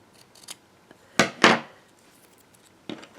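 Scissors snip a paper strip for paper beads: a couple of faint small cuts, then two sharp close crunching snips, and one more snip near the end.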